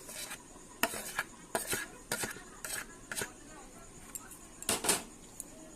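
Four hundred grams of flour mixed with a teaspoon of salt in a bowl for stuffed patishapta pitha batter, a spoon clinking and scraping in short, irregular strokes close by.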